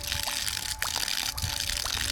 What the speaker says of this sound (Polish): To jest i tak woda poskórna, to niech sobie leci i wsiąka.